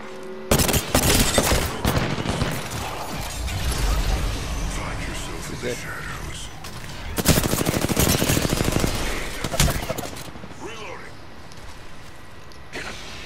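Automatic gunfire and shots in an Apex Legends ranked battle royale match, dense bursts recurring throughout amid game effects, with voices talking over the firing.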